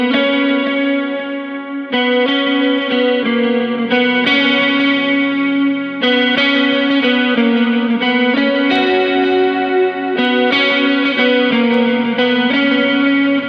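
An electric guitar with a chorus effect plays a worship-song chorus lead: shimmering sustained notes and chord changes in a steady rhythm, loud and alone, with a slightly driven tone.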